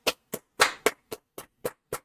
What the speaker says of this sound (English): I don't know if you guys could hear the clapping, but I was clapping